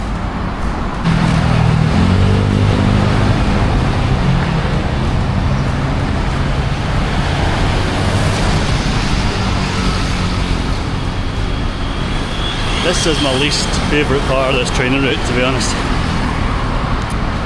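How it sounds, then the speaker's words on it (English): Road traffic rolls along a street in Jakarta as a steady, loud roar of passing vehicles, with someone talking over it throughout. "Traffic's actually lighter than normal at the moment."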